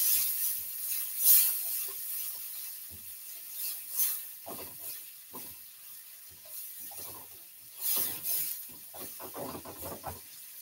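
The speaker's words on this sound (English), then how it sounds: "let's stir this around a little bit" Peppers stirred in a frying pan give off soft hissing sizzle with irregular scraping bursts from the stirring, faint and close, with no speech.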